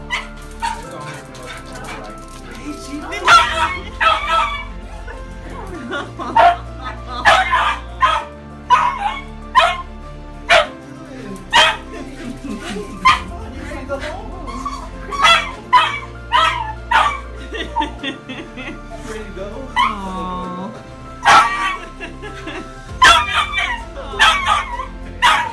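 A dog recovered from an illness barks, yips and whimpers excitedly in repeated loud bursts over about twenty-five seconds as it is reunited with its owner, with people talking in between.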